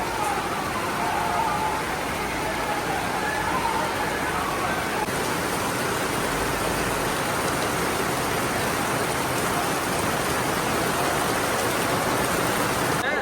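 Steady, dense hiss of heavy rain fills the whole stretch, a constant wash of noise with no pauses, close and loud.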